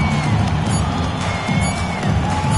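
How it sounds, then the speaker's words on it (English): Home crowd cheering in the basketball video game NBA 2K26 after a victory, a steady, dense roar of many voices with whoops, sustained and fairly loud throughout. "So the home crowd happy here as they get the victory."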